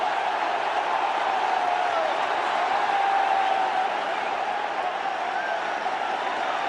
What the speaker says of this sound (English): The crowd here are on their feet.